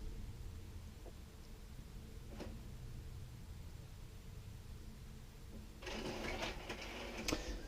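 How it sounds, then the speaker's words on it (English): An inkjet or desktop printer running off a page of letter stencil designs, with a faint low mechanical hum before a louder burst of busy feed and carriage noise near the end. "let's try and print that, see how it comes out on the page"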